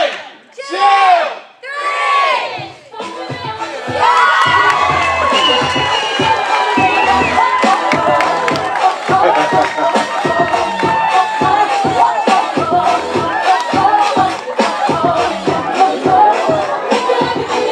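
Wedding guests on a mountain shout together in a loud, sustained crowd roar, cheering and whooping after a couple of brief opening calls.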